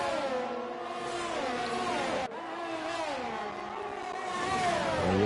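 Formula 1 car in the F1 22 video game at the Spanish Grand Prix, on soft tyres, its engine pitch climbing through the gears with one sharp upshift, loud and close throughout.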